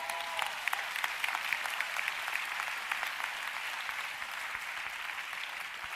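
Church congregation applause fills the space, a steady dense wash of many hands clapping that stays fairly even from start to finish with no voices breaking through.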